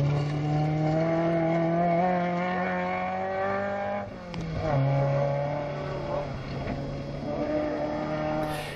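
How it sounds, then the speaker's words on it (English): Big Volvo rally car on the Mid Wales Stages of the British historic rally championship, engine droning loud and close with a sustained harmonic howl, dipping briefly as it shifts, then pulling hard again. "rally now for Ken Davies and Alan Jones as they bring the big Volvo home in 5th."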